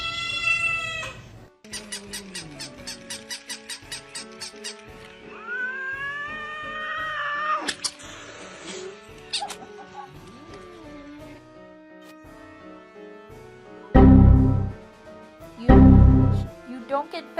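Several cats meow and caterwaul in a string of drawn-out, wavering cries, some close and loud, with a couple of harsh bursts near the end and a person talking between them.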